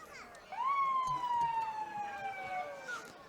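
A police car siren wails during a small-town Christmas parade, a single rising then slowly falling tone that starts half a second in, heard from a moderate distance against light crowd noise.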